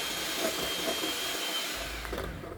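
Electric hand mixer running steadily on low speed, beating jelly cake batter in a home kitchen; a continuous close motor whir with no talking.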